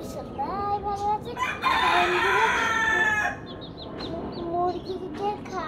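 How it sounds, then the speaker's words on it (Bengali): Chickens and a rooster in a home yard at feeding time, with a loud nearby crow in the middle and scattered clucks and calls around it. "মুরগিকে খাবার দিচ্ছিলাম"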